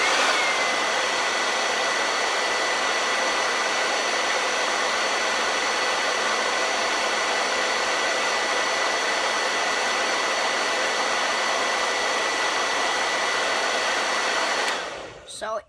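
A blow dryer runs continuously to float a ping pong ball, a loud steady whirring hum from close by that cuts off abruptly at the end, with no talking.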